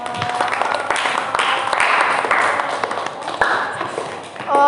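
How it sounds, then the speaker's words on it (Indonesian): Classroom applause for a student group that has just presented, a light patter of clapping from a modest number of people, fairly close, with some tapping and faint voices mixed in. "Tepuk tangan untuk kelompok 2."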